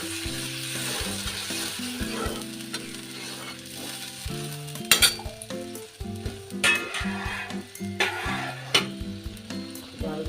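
A bottle gourd kofta curry masala fries and is stirred in oil, giving a steady sizzle punctuated by scraping bursts, with a melodic background tune running beneath it.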